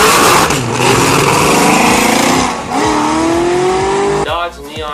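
Dodge Neon SRT4 engine revving hard, a loud, raspy, high-pitched drone that climbs steadily in pitch before dropping off abruptly, close and dominant throughout.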